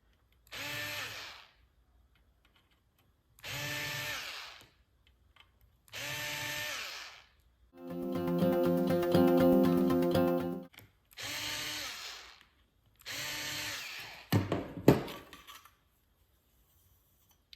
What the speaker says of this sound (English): we're going to try the number 30 holes with the deburring tool.